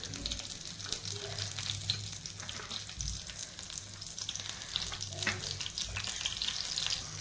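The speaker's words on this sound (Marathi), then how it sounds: "आपल्याला एक एक करून सर्व मिरच्या ह्या मातीच्या तव्यामध्ये आपल्याला सोडायच्या आहेत" Stuffed green chillies frying in oil on a clay griddle, a continuous close crackling sizzle with small pops and a few low knocks as the chillies are laid in one by one.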